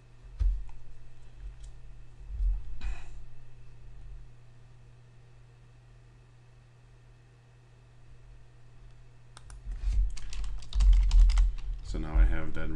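Keys on a computer keyboard are tapped to enter a URL while setting up a Raspberry Pi MAME game console. Faint, scattered clicks give way to a closer, quicker burst of typing near the end.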